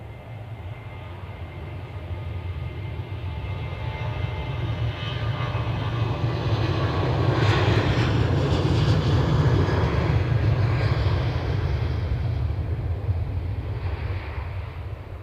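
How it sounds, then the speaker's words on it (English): An EasyJet airliner on final approach to Edinburgh Airport roars steadily, its engine rumble swelling to a loud peak midway and then easing off as it passes, with no voices over it. "And EasyJet just starting final approach."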